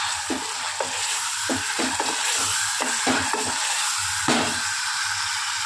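Spiced food fries and is stirred in a pan while red chili is roasted for a Hyderabadi lunch. A steady loud sizzle runs throughout, with rhythmic scraping strokes from a spoon repeating every half second or so.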